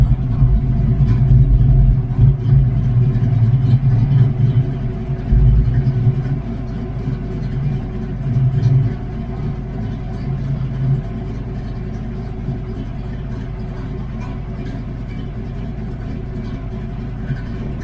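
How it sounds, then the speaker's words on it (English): A car with a 347 stroker engine idling steadily nearby, a loud continuous low rumble with slight unevenness in the first half that settles into a smoother, quieter drone. "You should hear a change in the engine in about another 30 seconds or so."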